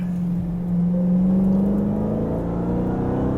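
Engine of a 2017 Dodge Charger Hellcat pulls hard under acceleration, a loud, rising tone heard from inside the car that climbs steadily and holds its drone, with no talk.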